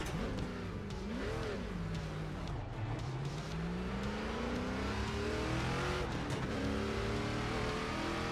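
A 600-horsepower oval race car in iRacing roars through laps, its engine rising and falling in pitch as it revs, shifts and accelerates, loud and continuous with no talk.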